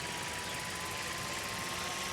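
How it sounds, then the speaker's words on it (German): A drone in the video game Life is Strange Remastered flies with a steady, faint buzzing whir that holds evenly without breaks. "aber wir fliegen nochmal mit der Drohne."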